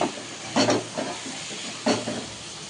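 Taro stolons cooked with prawns are stirred in a pan, with soft scraping strokes and light sizzling in a few bursts over a steady background.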